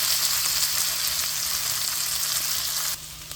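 Green chili sautéing in a pan for an eggplant curry, a loud, steady hiss of frying oil close up, dropping slightly near the end.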